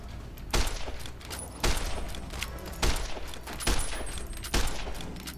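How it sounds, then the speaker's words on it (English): Five evenly spaced varmint rifle shots boom in Fallout: New Vegas, each a sharp, loud crack with a short tail, over a steady game ambience and no voices. "I'm gonna try this varmint rifle."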